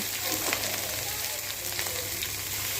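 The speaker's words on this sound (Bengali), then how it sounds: "এবার ওই গরম তেলের মধ্যে পেঁয়াজ কুচানোগুলো দিয়ে দিলাম।" Chopped onion frying in hot oil, a dense continuous sizzle, loud and close throughout.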